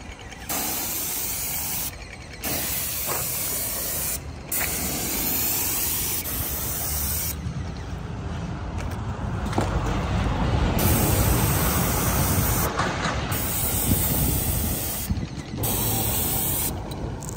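Airless paint sprayer blasting grey paint onto a building wall, a loud continuous hissing spray that stops and restarts in bursts of several seconds, close and steady, with no talking.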